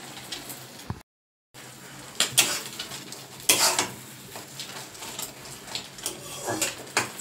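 Sizzling from an egg frying in a pan, with spatula scrapes and clanks against the metal and a short gap of silence near the start.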